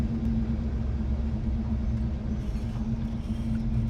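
A 1964 Chevrolet Nova II engine runs steadily while the car drives, giving a constant loud low rumble with a steady hum and no breaks or talk.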